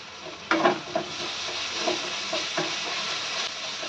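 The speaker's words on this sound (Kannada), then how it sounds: "ಆನಿಯನ್ ಸ್ವಲ್ಪ ಫ್ರೈ ಆಗೋವರೆಗೂ ಬೇಯಿಸ್ಕೊಳ್ಳೋಣ." Onions frying in a pan give a steady, moderate sizzle, with several sharp scrapes and taps of a spatula at irregular intervals.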